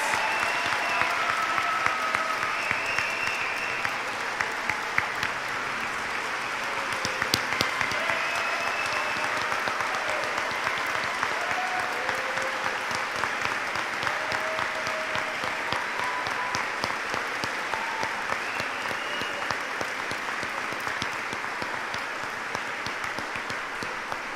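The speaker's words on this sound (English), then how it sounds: "Please join me in giving a big round of applause for all of our stellar graduates." Steady, sustained applause from a large audience at a University of Kentucky College of Nursing pinning ceremony for graduates, filling the hall for over twenty seconds with dense, even clapping and faint voices beneath.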